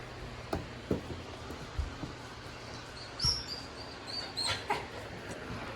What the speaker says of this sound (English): Puppies! You wanna come inside? You gotta be nice to the kittens.